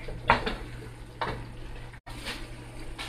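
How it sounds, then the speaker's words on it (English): A utensil stirs spinach and mushrooms in a pan, making a few soft scraping clinks against the metal over a low steady sizzle. The sounds are close and there is no talking. "Now you can just mix that all together."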